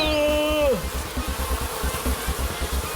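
A steady, droning buzz of bees fills the scene, continuous and fairly loud, with a brief whistling tone fading out near the start.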